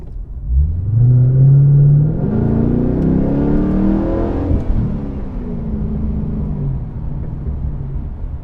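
A deep, rumbling Pontiac G8 GXP V8 sedan engine revs up hard, holds a loud roar, then settles back into a throaty idle.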